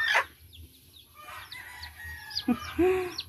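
Hen with thirteen chicks in a backyard, heard as scattered clucks and short calls with a louder crow-like squawk near the start and a rising cluck near the end, fairly close over low background rumble.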